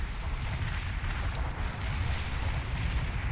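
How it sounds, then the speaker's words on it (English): Mortar barrage in the video game World in Conflict, a continuous dense rumble of overlapping low booms and blasts with no clear gaps, loud and steady throughout. "Mortar barrage delivered."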